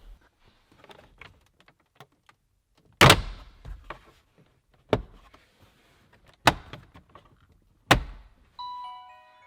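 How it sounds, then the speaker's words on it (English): Plastic trim panel under the steering wheel of a 2016 Ford F350 truck being pulled off, a series of loud, sharp snapping pops spaced a second or two apart amid quieter rustling and clicks, with no talking. "Time to pull off the panel under the steering wheel to get to the upfitter switch wires."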